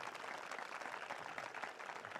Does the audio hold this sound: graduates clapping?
yes